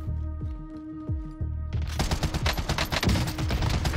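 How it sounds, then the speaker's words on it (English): Shotgun fire in Call of Duty Warzone on Rebirth Island: after some tonal game sounds, a dense burst of loud, rapid shots and impacts erupts and keeps rattling to the end, with no talk. "Shotgun!"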